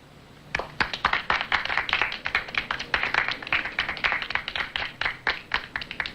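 Classroom applause for contest winners: a burst of separate, fairly close hand claps from a group of students, irregular and steady for several seconds with no talking over it.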